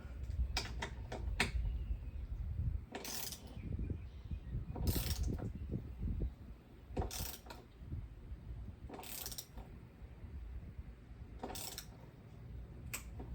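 A torque wrench ratchets as windshield bolts on a Can-Am Spyder are tightened in a cross pattern: several short bursts of quick clicking separated by pauses, close and clear over faint handling noise.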